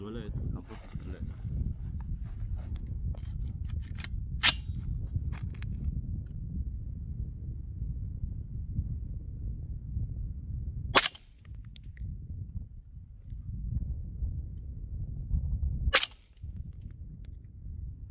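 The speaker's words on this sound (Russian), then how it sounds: "Задержка на последнем патроне. Так, у нас 4 выстрела есть." Three sharp shots from a Kurbatov R-710 carbine in .308 Win, fired outdoors at a range with long gaps between them, each a loud crack over a low background rumble.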